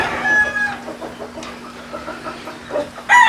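A hen clucks in a chicken breeding pen alongside a rooster, with short clucks and a brief crow-like call near the end over a low steady hum.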